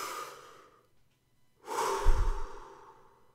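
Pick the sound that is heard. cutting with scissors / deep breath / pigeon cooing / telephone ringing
deep breath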